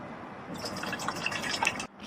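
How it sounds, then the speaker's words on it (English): Water from bottles pours into the waste cassette of a 2024 Roller Team T-Line 700 caravan toilet, a short, close glugging splash with a few bright drips before it abruptly stops. "pour in 3 bottles of water"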